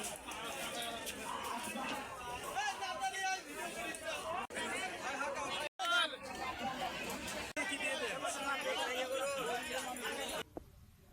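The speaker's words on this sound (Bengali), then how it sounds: "আজ হাটে অনেক ভিড় ছিল।" Dense, low-level babble of many people talking at once fills a crowded cattle market in Rajshahi, a steady hubbub with no single voice standing out and a few brief dips.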